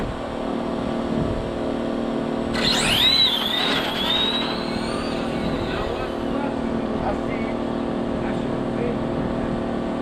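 RC drag racing car launching with spinning tires at a drag strip, a sudden rising high-pitched engine whine that fades over a few seconds against steady background noise and crowd.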